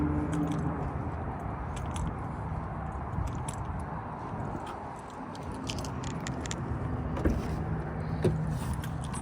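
Car key for a BMW i4 M50 handled inside the car, giving soft scattered jingles and small clicks over a steady low interior hum, with no one speaking.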